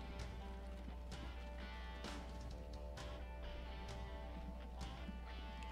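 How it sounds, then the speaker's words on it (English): Hooves of a horse clip-clop in the Transport Fever video game, a steady run of light, evenly spaced clopping steps over a constant background hum. "There goes the horse."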